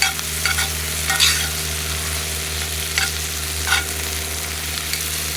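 Polish kielbasa and onions fry and caramelize in a pan over a wood gas stove, a steady close sizzle with a few scraping stirs, heard alone with no talking.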